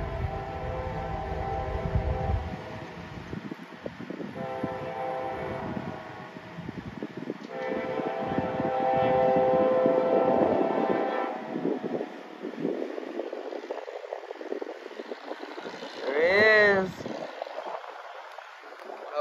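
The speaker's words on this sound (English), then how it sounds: "Be quiet until the train gets past here" CSX freight train L301 rumbles past near a trackside spot, a steady mechanical roar swelling and fading with a rising horn-like whine near the end, while people talk softly early on.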